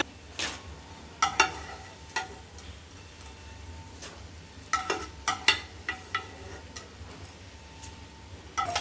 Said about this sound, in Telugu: ఈ వేయించుకున్న దాంట్లో ఆయిల్లోనే మనం ఇది తాలింపు వేసేసుకుందామండి